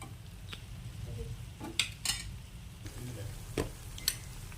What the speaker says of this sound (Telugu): అల్లం, వెల్లిపాయ అండ్ మిరియాలండి. మంచిగా మిక్స్ చేసుకోండి.